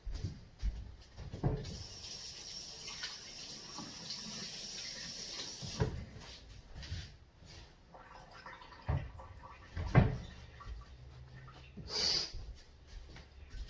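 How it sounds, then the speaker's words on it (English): Fingers rinsed under a running kitchen tap, a soft continuous splash of water that comes and goes, with a few louder knocks and clatters near the sink. "I'm going to wash my fingers"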